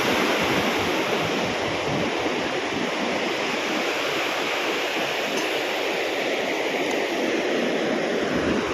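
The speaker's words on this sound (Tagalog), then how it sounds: "ang hampas ng tubig oh" Waves crashing on the shore make a steady, loud roar of churning surf that never lets up.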